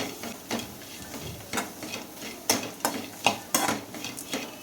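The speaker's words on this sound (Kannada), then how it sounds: "ಇದಕ್ಕೆ ಉಳ್ಳಾಗಡ್ಡಿ ಹಾಕಬೇಕು ಮತ್ತು ಉರಿಬೇಕು ಸ್ವಲ್ಪ ಹುರಿಬೇಕು" Onions being fried and stirred for North Karnataka wild karchikai palya, with a spoon scraping the pan in repeated clattery strokes over a soft, steady sizzle, close and moderately loud, no talking.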